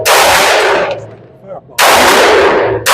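Two loud, close pistol shots from a Glock G23 firing .357 SIG rounds outdoors, each a sharp blast with a long ringing decay, spaced about a second and a half apart, with no talk.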